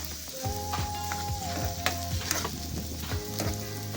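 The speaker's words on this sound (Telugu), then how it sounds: "తర్వాత క్యాప్సికమ్, క్యారెట్, ఉప్పు తగినంత వేసుకొని అన్నీ కలుపుకోవాలి." Capsicum, carrot and salt are stir-fried in a pan, a soft sizzle under repeated scraping and clinking of a spatula against the metal.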